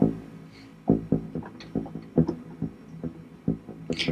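Driving pulse beat from a hitman film score, with deep, throbbing low thumps in an uneven walking rhythm, roughly two per second, and some faint higher synth accents, no voices.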